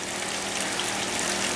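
A three-speed pump set on medium pushes solar-heated water into an aquaponics tank for tilapia, giving a steady, close, broadband whir and rush with no break and no voices.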